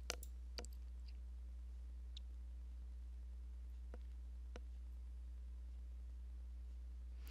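Several sparse, faint computer mouse clicks while an article is being selected, isolated taps over a quiet steady hum.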